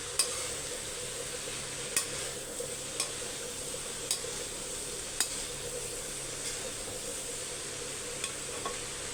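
Onions and washed greens fry in a wide pan with a constant soft sizzling hiss, while light clicks of a spoon against the pan mark occasional stirring.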